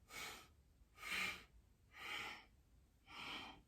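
Four slow, even breaths drawn in through the nose during a chair yoga session, each a soft, airy sniffing inhale about a second long with short quiet pauses between, close and faint, no talking.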